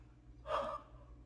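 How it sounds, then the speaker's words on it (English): A single breathy human yawn, short and fairly soft, swells and fades over about a quarter of a second against a quiet background. "I'm sorry for the yawn"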